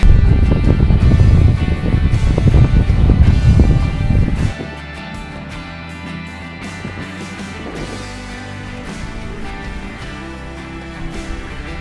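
Wind buffets the microphone outdoors during a long cross-country run, a loud, close, roaring rumble for the first few seconds that then drops away to a much quieter background.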